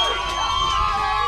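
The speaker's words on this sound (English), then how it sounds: "Spanish crowd is loving it." Spanish crowd roaring and cheering at a sporting match, a dense continuous wall of voices and whoops, loud and close, with a few children's shouts mixed in.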